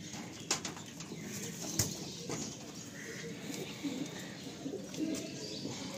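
Giribaj pigeons in a full loft, soft repeated cooing with bursts of wing flapping and a few sharp chirps, moderately close over low background noise, with faint voices nearby.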